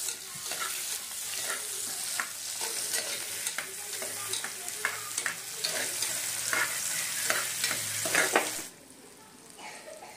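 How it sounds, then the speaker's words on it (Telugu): Onions and green chillies sizzle in hot oil for a mutton curry while a spoon stirs and scrapes through them in repeated strokes. The frying fades sharply near the end. "నెక్స్ట్ ఆనియన్స్, పచ్చిమిర్చి వేసుకొని బాగా కలుపుకోవాలి."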